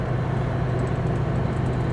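A heavily loaded Super B semi truck with its engine brake engaged on a mountain road, giving a steady, low, throbbing engine rumble heard from inside the cab, continuous and unbroken with no talk.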